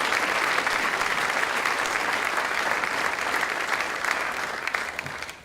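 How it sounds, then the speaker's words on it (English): A Miamisburg Founders Day dinner crowd applauds local businesses, dense sustained clapping from many hands filling the room before tapering off at the end. "Let's give those businesses a round of applause"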